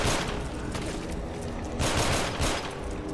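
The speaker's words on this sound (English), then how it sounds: "Yeah, keep shooting him, Hancock." Rapid, dense gunfire in the Sim Settlements game, loud overlapping bursts of shots that continue without a break, with a heavier volley near the end.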